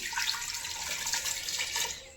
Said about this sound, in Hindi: पानी डाल दूँ थोड़ा सा,